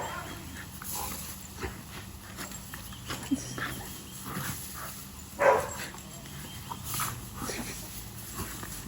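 Dogs playing outdoors in a backyard at dusk, scattered thumps, scuffles and a few short yips and whimpers, fairly close, with occasional faint talk.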